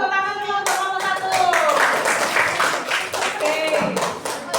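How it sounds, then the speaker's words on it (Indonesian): A primary school class in Indonesia claps together for a presenting group, a dense burst of many hands applauding close by, with a few voices and tonal chatter mixed over the clapping. "tepuk tangan dulu untuk kelompok 1."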